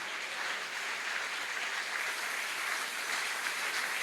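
Church congregation applauding and cheering, a dense steady wash of clapping that stays even for the whole few seconds, fairly faint and heard alone without talk.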